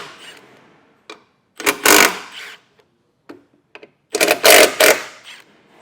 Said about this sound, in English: Then we'll want to take a 15mm socket and loosen these.